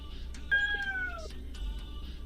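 A single close cat meow, a clear rising-then-falling cry lasting under a second over a quiet low hum.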